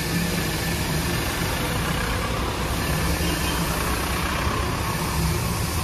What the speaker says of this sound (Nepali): अहिले चाहिँ स्टेप इन्जिन स्टार्टमा छ है